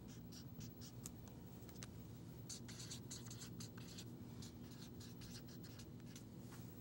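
Marker or chalk writing on a board during an algebra lesson on polynomials: a run of faint, quick scratchy strokes in irregular bursts over steady room hum, with no talking.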